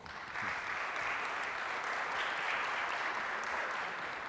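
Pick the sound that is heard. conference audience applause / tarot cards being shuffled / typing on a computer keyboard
conference audience applause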